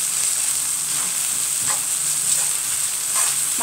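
Food frying in a pan with crushed candlenut and garlic, stirred steadily so a continuous sizzle and hiss carry faint scraping strokes, close and fairly loud throughout, with no voices.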